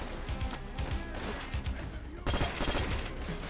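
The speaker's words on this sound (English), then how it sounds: "What the fuck is up with so many grenades?" Dense, distant gunfire crackles continuously in Call of Duty: World at War, with scattered pops and a sudden louder grenade explosion burst partway through that keeps the battle noise heavier afterward.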